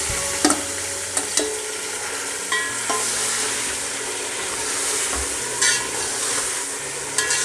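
Marinated chicken for a masala dum biryani drops into a hot pot and sizzles steadily, with repeated sharp clinks of a spoon stirring and scraping the metal pot.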